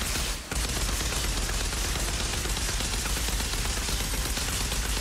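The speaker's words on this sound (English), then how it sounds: "See, I'm shooting him right there" Continuous gunfire hammers away while shooting the boss Molten Acari in the video game Outriders, loud and dense, with a brief gap near the start before the barrage resumes.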